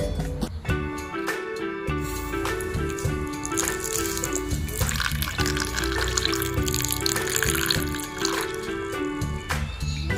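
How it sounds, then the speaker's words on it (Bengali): Milk poured into a small toy cooking pot in a miniature kitchen set makes a continuous liquid trickling and splashing, with light plastic rattles and clinks over the steady pour. "ভাজা হয়ে গেছে, এবার এর মধ্যে দুধ ঢেলে দেবো।"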